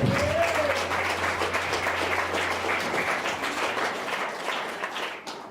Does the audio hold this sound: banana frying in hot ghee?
no